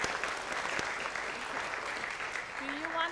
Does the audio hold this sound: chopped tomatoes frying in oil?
no